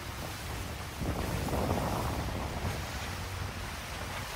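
A Class 40 racing sailboat surfs ocean waves, producing a continuous rushing wash of water and wind noise that swells mid-way through, with no voices.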